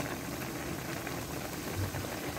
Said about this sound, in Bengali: এখানে ভাজিটা ভাজা হচ্ছে।